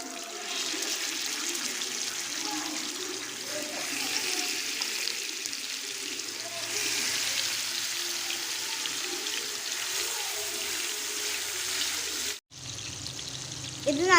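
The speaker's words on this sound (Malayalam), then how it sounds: "ഇനി നമുക്ക് ഈ സമയം കൊണ്ട് ചിക്കൻ ഒന്ന് ഫ്രൈ ചെയ്തെടുക്കാം." Chicken pieces fry in a pan for a chicken biryani, giving a steady broadband sizzle that stays fairly even throughout, with a brief drop and a clatter near the end.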